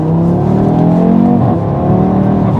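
An 8Y Audi RS3 pulls hard through second gear, its engine note loud, close and continuous, with the pitch shifting as it accelerates.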